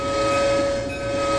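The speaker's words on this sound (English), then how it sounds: "2 honks of the horn." Horn of a New Haven Railroad EMD GP9 diesel locomotive in a train simulator game, a steady, loud, sustained tone blending into a continuous blast under rail rumble, the two honks not clearly separated.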